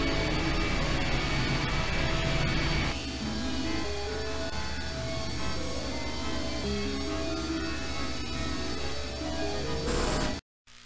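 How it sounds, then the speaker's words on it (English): An aircraft engine starts up and roars in I Have No Mouth, and I Must Scream, a loud, steady turbine-like drone that shifts pitch partway through and cuts off abruptly near the end. "The engine's starting up again."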